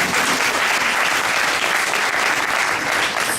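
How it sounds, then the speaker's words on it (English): An audience claps at a community race-relations discussion event, producing a continuous, full burst of applause from a crowd that fills the whole stretch without any talk. "go ahead, clap."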